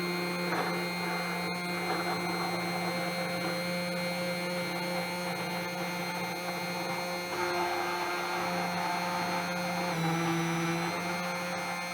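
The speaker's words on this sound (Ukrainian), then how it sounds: "Збиваємо гарно на самому дні і лише потім потрішечки-потрішечки піднімаємо блендер." A hand blender whirs steadily while whisking homemade mayonnaise, a constant motor hum with a slight change in pitch near the end and no talking.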